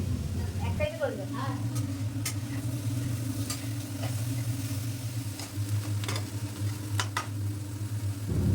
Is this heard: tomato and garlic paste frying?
yes